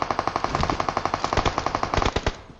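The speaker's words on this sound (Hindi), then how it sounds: "उस पर उस बंदे ने गोलियां बरसाई" Rapid automatic gunfire from the BGMI battle royale game rattles in a fast, even burst of close, loud shots lasting a couple of seconds, with no voices over it.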